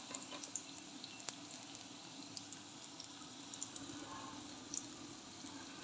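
Aubergine slices coated in gram flour and spices fry in hot oil in a pan, giving a faint, steady sizzle with scattered soft pops and crackles.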